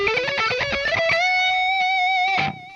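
Electric guitar plays a fast picked lick from the chorus, a run of quick notes rising into a long sustained bending note that ends with a short strum, played alone.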